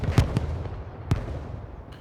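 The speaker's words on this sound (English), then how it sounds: "Right off the start, we can see some explosions going out." Distant artillery explosions in the Hell Let Loose battlefield game, a few dull booming thuds spread over about two seconds against a low rumbling background.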